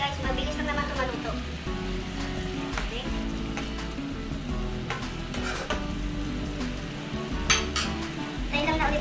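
Sardines and water spinach (kangkong) sizzle and fry in a pan for a quick ginisang sardinas, a dense crackling hiss with utensils stirring and scraping throughout.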